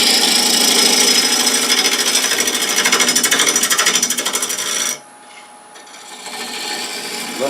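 A bowl gouge takes a roughing cut on Bradford pear turning on a lathe, a loud, continuous rasping scrape with a rapid pulsing flutter that stops abruptly, leaving a fainter hum.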